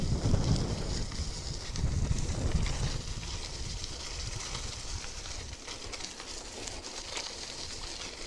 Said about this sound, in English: so good with some wind.